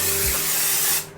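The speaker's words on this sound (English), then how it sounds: "I like to spray it on top of my head." One short, close burst of Sebastian Shaper Plus hairspray is sprayed onto the top of the head, a steady airy hiss lasting about a second before cutting off.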